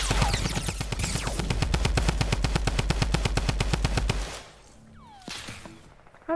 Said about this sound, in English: we're being sniped by somebody else